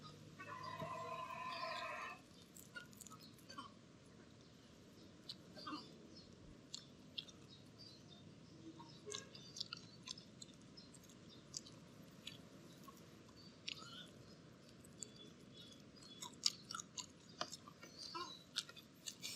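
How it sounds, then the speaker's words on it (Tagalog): Close, crisp crunching bites into crispy fried chicken wings, followed by steady chewing, with scattered crackly clicks over a quiet background. "Unang kagat."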